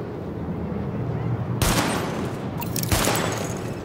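Sidearm fire at highlighted targets in The Division, with two sharp, loud shots about a second apart following a quiet ambient lull.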